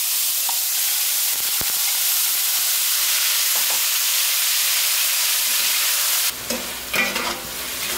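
Shrimp hit a hot pan of dark amber, frothy curry base and sizzle loudly and steadily, then a burst of clattering tossing and spattering near the end, with no talking.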